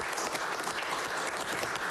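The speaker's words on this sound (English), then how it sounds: "we'd like to give city staff a round of applause" Applause for city staff at a city council meeting, a fairly quiet but continuous patter of many hands clapping in a room, with no voices over it.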